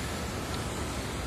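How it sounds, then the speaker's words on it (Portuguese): Heavy water pours over the waterfall at Missão Velha, a steady, dense rushing roar that holds at an even loudness throughout with no voices. "Veja só a cachoeira de Missão Velha."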